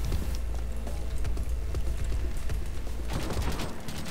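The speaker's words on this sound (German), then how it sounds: "Mein Ermessen verlangt jetzt nach Schießen!" Gunfire in the video game Call of Duty Black Ops 3, a rapid run of sharp shots repeating throughout over a dense background of game noise, with a denser burst near the end.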